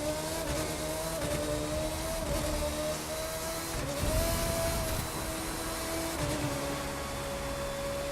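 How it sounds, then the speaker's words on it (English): Formula 1 car driven in The Crew 2 video game: a steady high-pitched engine whine holding near-constant revs, with slight pitch dips and rises as it shifts, loud and alone throughout. "there's like a Formula 1 car. Let's go ahead and get in this, and let's take it for a test drive."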